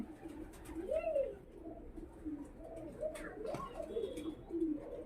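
Pakistani high-flying pigeons in a loft give repeated low, throaty coos, several rising-and-falling calls close by over quiet background hiss.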